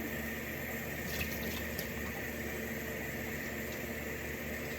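Water running steadily from a tap or sprayer, rinsing soap and suds off a Labradoodle during a bath. The spray is a continuous even hiss with no speech.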